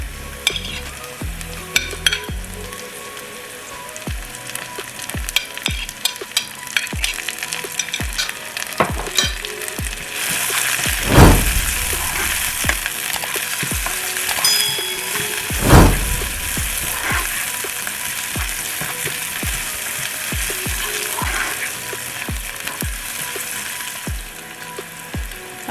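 Red bell pepper and onions sizzle steadily while frying in a pan for shakshuka, with clattering stirring throughout and two louder surges of spitting partway through.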